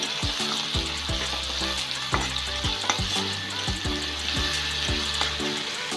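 Onions frying in a pan with ginger garlic paste and two dried chillies, a constant close sizzle broken by regular scraping knocks of stirring.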